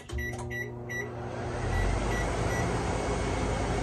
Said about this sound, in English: Microwave dinner in the microwave.